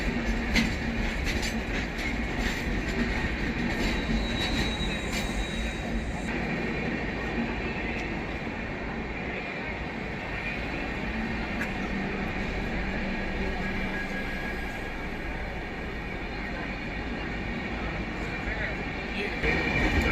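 The Anand Vihar–Kanpur Central Weekly Express, a fully packed Indian passenger train, rumbles past continuously and loudly with a dense rolling roar and wheel clatter, while someone talks over it.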